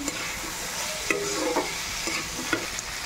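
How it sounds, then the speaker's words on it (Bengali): Potatoes with turmeric and spices are stirred in a sizzling pan, a spoon scraping and clinking in a few uneven strokes over a constant frying hiss, close and without talk. "এবার মশলার সঙ্গে এটা নেড়ে নেবো।"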